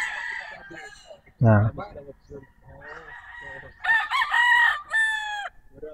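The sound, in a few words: gamefarm broodcock roosters crowing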